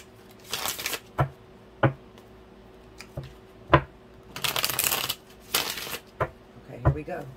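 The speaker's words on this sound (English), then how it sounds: "The cards are so new. They hurt like shit when I'm trying to shuffle them." A brand-new tarot deck is shuffled by hand, with sharp riffling bursts and quick card taps and snaps repeating unevenly up close.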